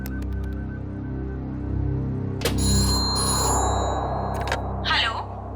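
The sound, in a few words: telephone ringing on an outgoing call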